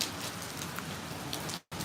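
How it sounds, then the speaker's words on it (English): Light rain patters steadily across the Plains, a soft continuous hiss of drops on surfaces, briefly cutting out near the end before resuming. "It's still raining, but the rain has let up a ton."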